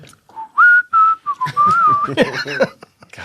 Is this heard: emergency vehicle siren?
no